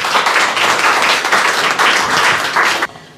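Audience at an Urdu Eid Milan mushaira in London applauding the poet Najma Usman, loud close clapping from many hands that cuts off abruptly near the end.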